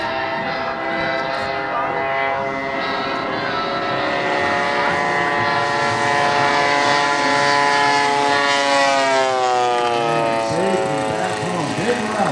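A Vickers Vernon WWI biplane lands in a crosswind at an air show, its engines droning loudly and steadily with a sweeping, shifting pitch as it passes close by.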